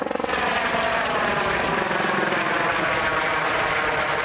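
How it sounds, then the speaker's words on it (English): A U.S. Customs and Border Protection helicopter passes overhead in the desert near Organ Pipe on the Arizona border, a steady, loud rotor and engine drone that fills the whole stretch with no talk. "A helicopter flew overhead."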